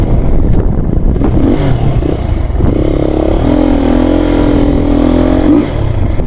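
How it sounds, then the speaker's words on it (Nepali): A dirt bike engine at Suicide Point in Jhapa drones loudly and close throughout, then rises into a sustained revving whine for a couple of seconds before easing back down. "अब बाइक फेरि भित्रै हाल्छौँ नि त।"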